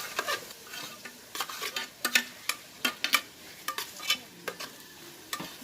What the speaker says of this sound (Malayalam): പച്ചമുളക് ഇടാം, തക്കാളി ഇടാം.